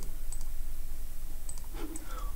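A computer mouse clicks a few times, sparse and fairly faint, while someone works through geometry fracturing in Unreal Engine 5, with no one speaking.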